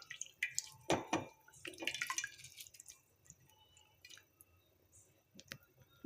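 Curry leaves, cumin and dried red chilies for pepper rasam are squeezed by hand, giving soft wet squishes and small clicks in uneven bursts, quiet and close.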